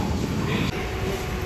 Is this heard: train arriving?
yes